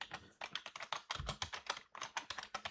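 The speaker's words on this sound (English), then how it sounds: "by just typing this command Jupyter Notebook" Rapid, steady keystrokes clatter on a computer keyboard, close and quiet, with a brief pause partway through.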